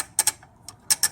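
Automatic transmission selector linkage on a Mitsubishi Triton being worked back and forth: a handful of quick, close mechanical clicks in pairs over about a second, with no voice.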